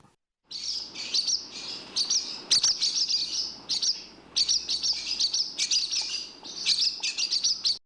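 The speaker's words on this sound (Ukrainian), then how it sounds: "А ось і ластівочка прилетіла." Bright, high-pitched swallow twittering comes in quick bursts, close and fairly loud, with short pauses between the chattering phrases.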